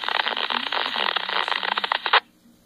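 A Baofeng BF-F8+ handheld two-way radio receives a transmission, giving a burst of bandlimited, crackly radio audio about two seconds long. It ends abruptly in a short squelch tail, then near-silence.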